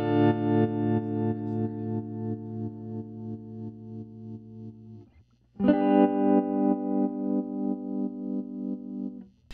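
An electric guitar played through a tremolo effect rings out in choppy, evenly pulsing stutters on a sustained chord, breaks off briefly at mid-point, then the steady rhythmic chopping resumes.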